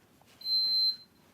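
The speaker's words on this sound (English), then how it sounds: "You're beeping." A single sustained electronic beep, high-pitched and steady for about half a second, coming from a child's backpack, clear and alone.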